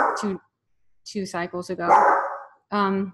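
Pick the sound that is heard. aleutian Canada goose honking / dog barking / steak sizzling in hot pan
dog barking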